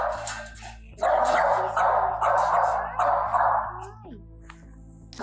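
Two basset hounds in a yard bark in loud, close, repeated bursts of deep baying, with a short whimper near the end and a voice in the background.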